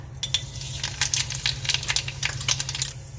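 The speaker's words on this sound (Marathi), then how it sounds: "आपण कढईमध्ये तेल घालून घेतलेलं आहे आता राई घालते" Mustard seeds crackling and popping in hot oil in a kadai, a quick irregular series of sharp close spits and pops over a low steady sizzle, with no voices.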